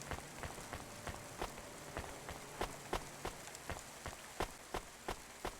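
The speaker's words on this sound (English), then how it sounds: "Constantly raining in the city." Rain falling steadily across a city street, a dense hiss of drops on hard surfaces with sharper close splats ticking irregularly throughout, fairly quiet and without voices.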